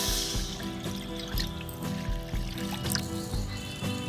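Water being poured into a kadhai to start sugar syrup for a sweet, a soft continuous pouring and trickling sound with faint clinks, quiet and close, no speech.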